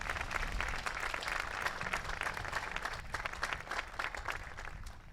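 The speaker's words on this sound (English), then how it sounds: "I think they deserve another round of applause" Graduation audience at Mepham's 2023 ceremony giving a round of applause for the faculty, a thick, even clatter of many hands in a large hall, steady for several seconds and tapering slightly at the end.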